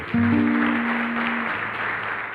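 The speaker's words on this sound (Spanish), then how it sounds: "Un aplauso para ellos también" An audience gives steady applause for the collaborators at a talk, a thick, continuous clapping that starts abruptly and carries evenly at close range, with a faint low hum beneath it.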